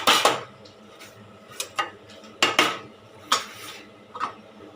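Brinjal fry being stirred in groundnut oil in a pan, with a spoon or spatula scraping and clinking against the metal in a handful of sharp, irregular strokes. The strokes stand alone, with no talking.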